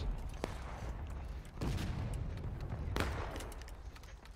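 Musket gunfire from a Civil War video game set at Antietam, faint scattered volleys of distant shots with a few sharper reports standing out from the background.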